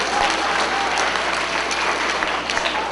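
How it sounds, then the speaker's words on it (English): Steady, enthusiastic applause from a crowd of schoolchildren in a school assembly, continuous and even for the whole stretch without pause. "Give him a round of applause for that question."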